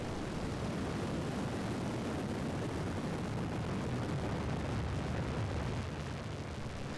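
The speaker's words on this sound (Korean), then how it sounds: "그리고 2010년 6월 2차 나로호 발사 시도." The Naro rocket lifts off on its second launch attempt in June 2010, giving a continuous, loud roaring blast that holds steady across the whole stretch with no talk.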